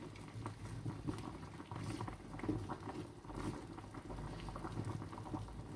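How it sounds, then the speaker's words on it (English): Plantain and catfish bubbling in a boiling pot, with a soft continuous burble and faint stirring patter, quiet and close with no voices. "I'm going to stir."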